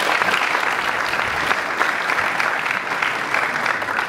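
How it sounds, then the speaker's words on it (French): A packed university lecture hall audience claps loudly and steadily for supporters of a book, dense continuous applause without a break. "Vraiment, il faut les applaudir très fort."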